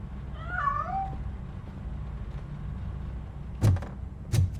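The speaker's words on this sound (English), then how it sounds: "That cat must be hiding inside." A cat gives a single clear, close meow near the start, followed by quiet background and two brief knocks or thumps later on.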